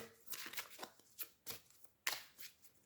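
Tarot cards being shuffled in a series of soft, papery riffles and slides with distinct flicks, recorded close and alone with no talking.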